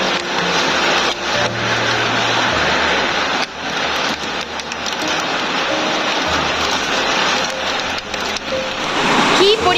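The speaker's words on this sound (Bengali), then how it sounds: "কি পরিমাণ বৃষ্টিটা একবার পড়ছে তাই দেখো" Heavy monsoon rain pours steadily onto a rooftop and the surrounding ground, a dense, continuous hiss that stays loud throughout the clip, while low voices murmur faintly underneath it.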